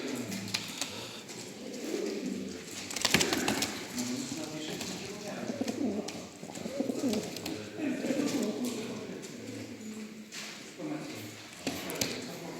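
Racing pigeons coo softly in low, rolling calls at a pigeon show in Potępa, among a busy room, with people talking nearby and occasional sharp clicks and knocks.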